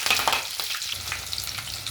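Green chilies, shahi jeera and bay leaves crackle and sizzle in hot oil, a steady close frying hiss with small popping bursts and no voices.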